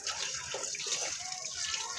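Water runs steadily from a tap over a tortoise's rock being rinsed, a constant close splashing hiss.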